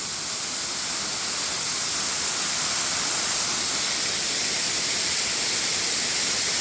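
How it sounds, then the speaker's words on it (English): Steady, dense rushing of a waterfall at night, a constant broadband roar with no breaks or voices, unchanging in level throughout. "I love the sound of water."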